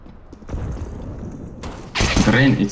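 Bomb defusal in CS:GO on the Nuke map during a competitive match, a steady mechanical clicking and rattling that rises in loudness partway through, under a player's voice.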